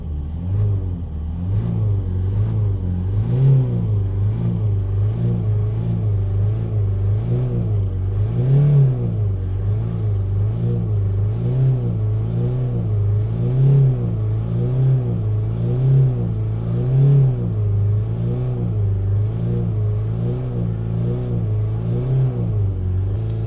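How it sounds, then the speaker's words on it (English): A Toyota Auris 1.4 D4D diesel engine with a blocked particle filter is revved repeatedly, rising and falling in regular rhythmic surges over a steady close idle. "So I'm going to give it a few revs now, see if the temperature increases or decreases as I rev it."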